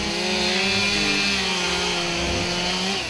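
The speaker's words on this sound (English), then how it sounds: "With the sound of chainsaws blaring, they begin their cuts." Chainsaws blare continuously and loudly while firefighters cut ventilation holes through a composition-shingled roof during a fire response, the engine drone steady and dense throughout with no talk.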